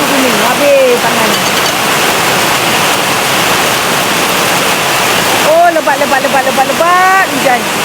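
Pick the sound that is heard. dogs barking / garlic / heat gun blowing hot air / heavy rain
heavy rain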